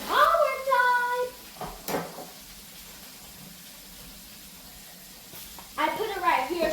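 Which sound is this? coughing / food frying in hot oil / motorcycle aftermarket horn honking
food frying in hot oil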